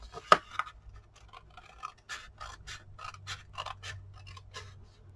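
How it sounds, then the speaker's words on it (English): Scissors snip through material in a series of short crisp cuts, close and quiet, with one sharper snap near the start and faint hum beneath. "I'm just cutting this with my scissors."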